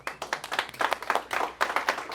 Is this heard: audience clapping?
yes